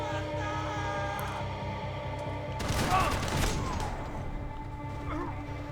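A brief burst of machine gun fire erupts in the Max Payne 3 video game, a dense rattling crash lasting about a second over steady game background noise.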